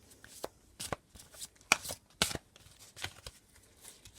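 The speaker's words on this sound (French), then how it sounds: "Je vais tirer 2 cartes." Oracle cards are shuffled and drawn by hand. The crisp, papery riffles and slaps come in short irregular bursts, close up, with quiet gaps between them.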